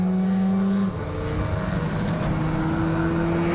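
Super Street 300 amateur racing motorcycles on a race track, a loud sustained engine drone with a steady high whine that shifts pitch as bikes pass, with no talk.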